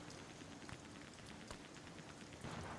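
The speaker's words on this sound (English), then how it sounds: "All I can hear right now is loud rain and bullets." Loud, steady rain in the horror video game Amnesia: The Bunker, a dense continuous hiss with scattered sharp crackles and pops mixed in.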